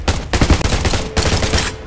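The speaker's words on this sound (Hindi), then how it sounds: "ये सब कहाँ कहाँ भी फायर कर दे रहे हैं।" Gunfire in the survival shooter Undawn crackles in two loud, rapid bursts of automatic shots, close and sharp, separated by a short gap.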